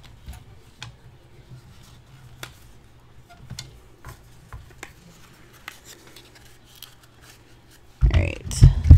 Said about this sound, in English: let me cut this really quick